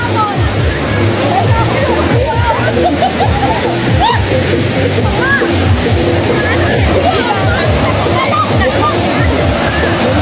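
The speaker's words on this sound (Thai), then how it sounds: "น้ำตก" Wang Kan Lueang waterfall in Lopburi, Thailand: a loud, steady rush of falling water with sloshing and splashing, close by and continuous, with voices faintly mixed in beneath the roar.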